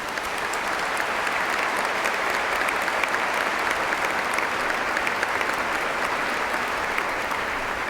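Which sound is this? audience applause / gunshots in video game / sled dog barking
audience applause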